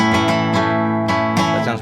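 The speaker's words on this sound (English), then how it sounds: "a bass note would sound like this" A flamenco guitar sounds a bass note, then ringing plucked notes follow, with several distinct string attacks in quick succession that sustain and overlap, close and clear with no talking.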